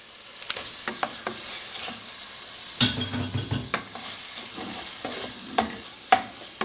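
Beef dropped into a hot pan for a Peruvian picante de carne, sizzling steadily at close range, with a burst of hissing as it lands and scattered spoon scrapes and stirring clicks over the constant frying.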